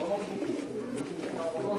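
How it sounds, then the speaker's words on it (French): Pigeons coo softly and repeatedly in the background, mixed with the murmur of people talking nearby. "ils doivent être bien, là, les pigeons."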